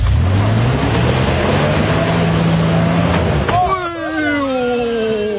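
A climbing car's engine revs under throttle, a loud sustained drone that rises sharply in pitch near the end as the power comes on, with voices talking over it.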